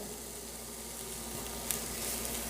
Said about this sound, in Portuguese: Agora que a banha já derreteu, eu vou acrescentar uma cebola picada.